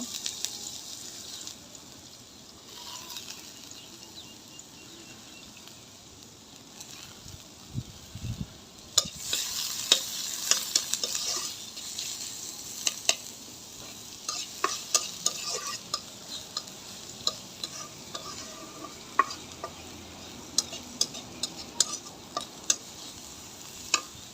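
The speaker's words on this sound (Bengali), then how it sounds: "এখন আমি পেঁয়াজগুলি বাদামি কালার করে নিব" Onions frying to brown in a pan after fish has been fried, a quiet steady sizzle that grows busier midway, with repeated sharp clicks and scrapes of a spatula stirring close by.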